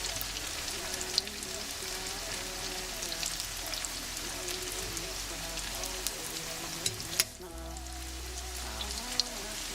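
Pork schnitzel fries in a pan over medium heat with a dense, steady crackle and spatter, broken by a brief clatter partway through.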